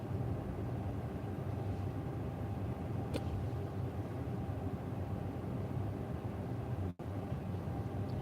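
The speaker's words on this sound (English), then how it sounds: "lots of traffic this morning" Morning road traffic passes outside a car with large windows, heard from the cabin as a steady low rumbling hum with little variation and no talking.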